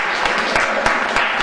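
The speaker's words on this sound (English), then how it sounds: "so give a big round of applause" A brief burst of dense audience clapping at a concert of student singer-songwriters, steady and close, with sharper individual claps punctuating the wash.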